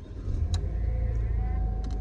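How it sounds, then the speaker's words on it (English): A car starting up after its ignition is turned, a low engine rumble settling into a steady idle, close and continuous, with a few brief clicks over it. "I'm gonna cut it on right now as I turn on the car."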